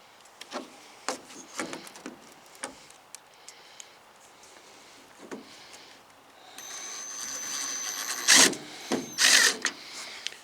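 Screws being driven into a black plastic tailgate handle on a 1991 Toyota Pickup, heard as scattered close clicks and ratcheting taps, then a louder whirring burst of a driver near the end.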